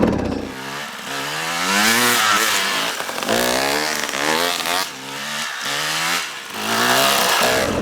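A motorbike engine revs hard during a wheelie, loud and close, with rising and falling surges of pitch across several throttle blips.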